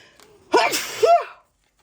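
A single person sneezes close up, a sharp two-part burst that cuts off into silence.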